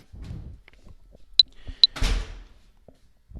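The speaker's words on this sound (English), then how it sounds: "I have another door to open." An indoor door is opened close by, with two sharp clicks of the latch and handle followed by a short thud and swish as the door swings, quiet footsteps around it.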